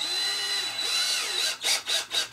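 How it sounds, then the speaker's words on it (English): Power drill driving a screw into a wooden stake used to tie up a leggy plant or young tree: a steady high whine, then a few pulsing bursts as the bit bites and the motor surges, close and alone. "take your screw, put it in, and then drill this right in"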